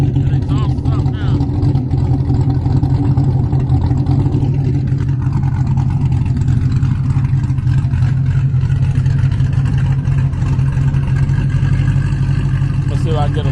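A Cadillac V's engine and exhaust, back from the muffler shop, run steadily at close range with a loud, deep, continuous rumble that stays fairly even throughout, with no clear rev surge.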